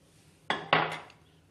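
Chicken being mixed with cornflour in a bowl gives two quick, close clinks of a utensil against the dish in brief succession, then quiet, with no talking.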